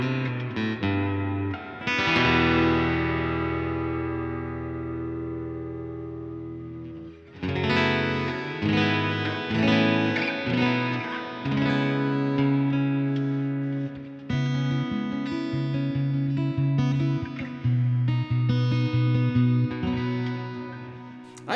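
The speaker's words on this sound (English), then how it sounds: "then you've got hall reverb, so we can make it much bigger" ENYA X4 Pro carbon fiber fingerstyle guitar played through a hall reverb effect, sustained chords ringing out into a large washy tail, with a pause before another strummed passage blooms, loud and free of talk.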